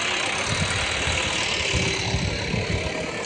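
A JCB excavator engine runs with a steady, rumbling drone that holds at one level throughout, without any voices.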